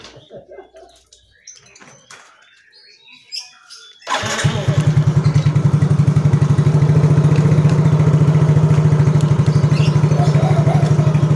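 Yamaha Mio J motorcycle engine starting on the electric starter, quiet handling noises and faint pigeon coos, then the engine catches and settles into a loud, close, steady fast-pulsing idle.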